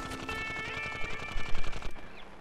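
Rapid gunfire from armor-piercing bullets in the video game Hell Yeah!, a fast rattling burst of shots over electronic game music and tones, ending abruptly.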